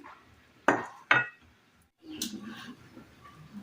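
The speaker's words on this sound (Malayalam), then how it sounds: "നന്നായിട്ടൊന്ന് മിക്സ് ചെയ്തെടുക്കാം" Snack batter is mixed in a bowl, two sharp clinks of a utensil against the dish followed by a softer scraping, stirring sound, close and without speech.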